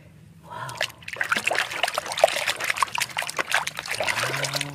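Toy animals, including a crab, are washed one by one in a container of water, giving continuous splashing, trickling and dribbling close by, with faint sounds underneath.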